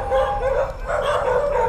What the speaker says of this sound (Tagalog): doon palang kakahol yung aso.